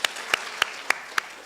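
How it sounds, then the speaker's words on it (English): Five sharp, evenly spaced claps ring out about a third of a second apart at a school debate competition as the result is announced, thin and sparse rather than a full crowd. "Please give them a round of applause."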